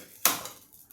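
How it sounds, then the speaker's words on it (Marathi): A single short clatter of a thick wheat bread (rodga) set down into a metal kadhai (wok), close by, fading quickly into quiet. "आता हे मी या कढईत ठेवते"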